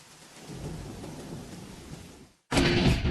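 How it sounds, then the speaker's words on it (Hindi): Heavy rain pours steadily with deep rolling thunder in a TV commercial scene, a constant dense wash that drops out briefly before a louder burst of downpour returns. "बारिश भी बहुत हो रही है"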